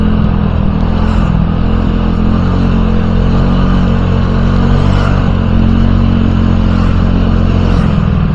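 A Honda Giorno 125 scooter, set up as 160cc, riding through city traffic with a loud steady engine drone and constant wind rumble from up close, the throttle rising and easing slightly.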